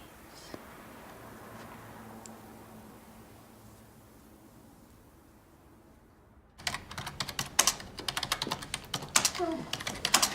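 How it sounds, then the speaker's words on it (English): A quiet room hum gives way, about two-thirds through, to close, brisk typing on a computer keyboard for a report, with rapid irregular clicks and clacks. "I'm typing up my report while it's still fresh."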